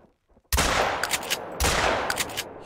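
Two loud shotgun blasts from a 12-gauge Cacciatore aimed at a magpie goose in theHunter: Call of the Wild, about a second apart, each a sharp crack followed by a long booming tail.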